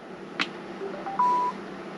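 A Sena Impulse modular mesh intercom on a motorcycle smart helmet gives a short electronic beep, then a steadier tone about a third of a second long, both close and clear over a quiet background.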